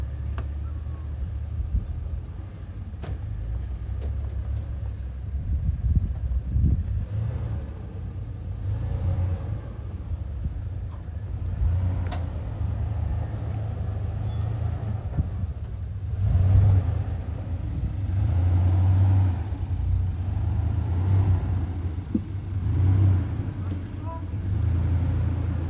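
An off-road vehicle crawls over roadside ditches on a Kashmir mountain trail, its engine a steady low rumble with surges as it climbs, continuous throughout, with voices talking over it.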